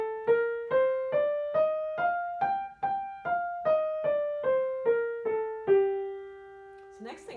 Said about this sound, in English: So now we have a natural minor scale, which sounds like this.